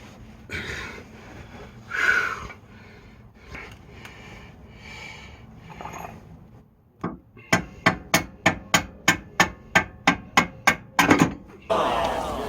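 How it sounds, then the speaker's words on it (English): A hammer taps a rack and pinion part into place on a Jeep Commander, about a dozen quick, evenly spaced metallic strikes, preceded by muffled shop noises. "Just tap it in. Give it a little tappy. Tap, tap, tap-a-roo."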